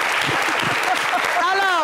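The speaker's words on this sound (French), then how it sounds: "Applaudissez pour elle." Audience applause at a French talk show, brief and steady clapping layered with voices and a whistle-like tone near the end.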